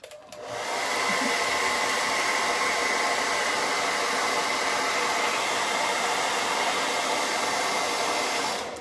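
A hair dryer blows on orange paint lettered over tan on a wooden football-helmet porch sign, a loud, steady close-up whoosh that switches on, runs evenly for several seconds and cuts off.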